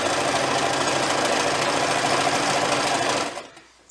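Sewing machine running a straight stitch with a 1/4 inch seam allowance along the edge of an elastic bookmark; loud, steady rapid motor hum and needle chatter for about three seconds, then stopping abruptly.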